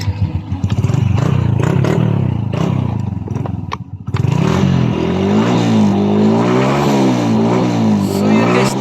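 A Honda Wave 100 motorcycle engine starts, then idles and revs up and down in steady close-up waves, loud and rough, with a mechanical clatter after a brief dip.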